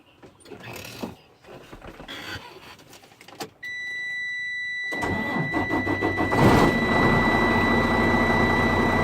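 A truck engine cranks and catches at about three and a half seconds, then settles into a steady idle with a high whine, after some rattling mechanical noises.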